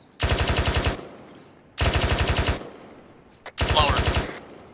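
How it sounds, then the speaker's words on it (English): Three sustained bursts of rapid automatic gunfire ring out in the Arma 3 military video game, each lasting under a second, loud and close with a tight, even stutter of shots and short pauses between bursts. "I'm taking accurate enemy fire"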